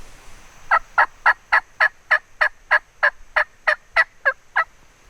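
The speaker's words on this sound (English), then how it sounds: "Here comes two big gobblers." Wild turkey gobblers during hunting season, a close, clear series of about fourteen evenly spaced sharp calls in a quick rhythm, with no talk over them.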